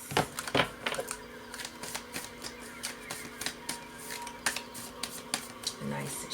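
A deck of cards is shuffled indoors during a zodiac reading, a run of quick soft riffling clicks and taps with brief bursts, fairly faint.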